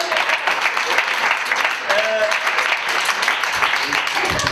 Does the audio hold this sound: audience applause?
yes